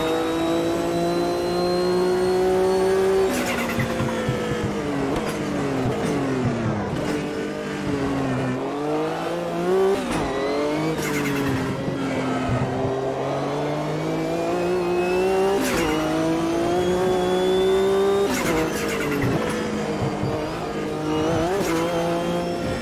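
Race car engine in the Automobilista 2 sim during a World Sportscar Championship race, revving up and down loudly and continuously through gear changes, with the pitch repeatedly climbing and dropping and occasional tire squeal.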